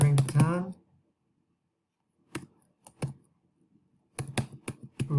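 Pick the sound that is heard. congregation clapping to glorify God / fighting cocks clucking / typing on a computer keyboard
typing on a computer keyboard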